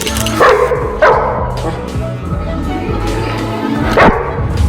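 A dog barks in a few sharp bursts spaced across the clip, over steady background noise and low rumbling.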